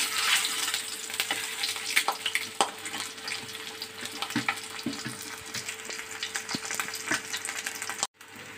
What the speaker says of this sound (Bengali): ডিমগুলোকে এবার একটু কড়াইতে একটু ভেজে নিতে হবে।